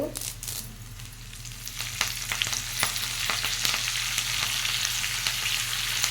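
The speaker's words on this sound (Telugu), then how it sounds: "చూసుకోండి కరివేపాకు తేలుతుంది" Curry leaves fry in hot oil for an Andhra sambar tempering, a loud, continuous sizzle and crackle with scattered sharp pops, heard close and without talk.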